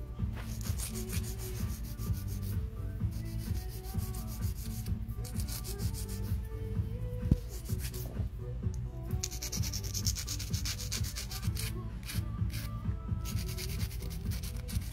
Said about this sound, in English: now we're gonna taper the shape in and customize it.